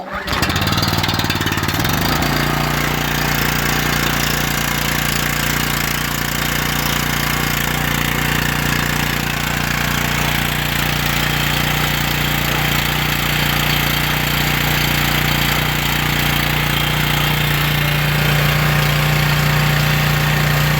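A small pull-start engine fires up after a brief struggle and then settles into a loud, steady, close running drone that holds unbroken for the rest of the stretch with no voices.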